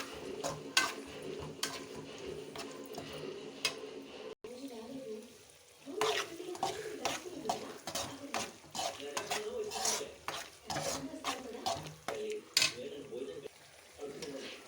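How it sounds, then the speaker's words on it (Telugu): A spoon stirs bitter gourd curry with turmeric in a pan, making repeated close scraping and clinking strokes against the metal over a faint sizzle, with a short pause partway through. "పసుపు వేసి బాగా కలపాలి."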